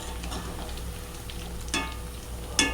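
Soya chunks 65 fry in oil with a steady, moderate sizzle, punctuated by two sharp clatters of stirring toward the end.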